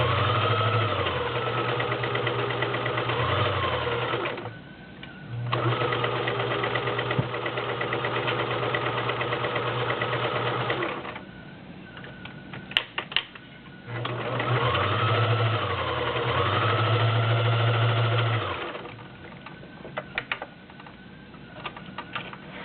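Vintage Kenmore model 1351 convertible sewing machine stitching decorative stitches, humming loud and close in long steady runs with brief pauses, clicks and handling noises between runs.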